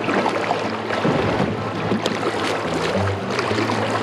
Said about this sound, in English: Paddle forward.